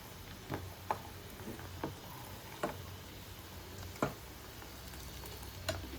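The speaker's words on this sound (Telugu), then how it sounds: "ఇప్పుడైతే ఎండుమిర్చి వేసింది." Dried red chillies frying in hot oil for mango pickle give a faint, steady sizzle in a home kitchen, with scattered soft pops and clicks and no talk.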